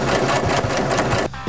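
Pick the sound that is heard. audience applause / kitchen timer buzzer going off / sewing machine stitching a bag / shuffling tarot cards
sewing machine stitching a bag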